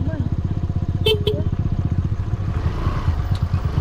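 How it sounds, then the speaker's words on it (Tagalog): A motorcycle engine chugs close by on a mountain road in Benguet, a steady rapid putter that fades slightly as it moves off, with a brief voice over it. "Ayun, may motor."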